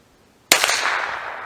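A Chiappa Little Badger rifle fires a single CCI Mini-Mag round: one sharp, loud crack after a moment of near silence, followed by a ringing, decaying tail.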